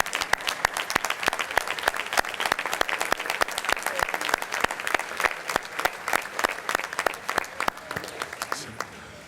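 An audience at an architects' conference gala applauds, with sharp, distinct claps in a brisk, lively rhythm that thins out slightly toward the end.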